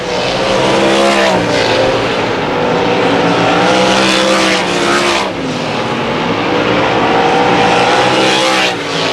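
Race cars roaring around the Susquehanna track: a loud, continuous wall of engine noise with rising and falling pitch as cars pass close by, sustained throughout.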